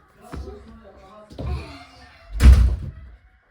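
Three heavy thuds a second apart, the last the loudest, like a door slamming in the Roblox video game, with someone talking between them.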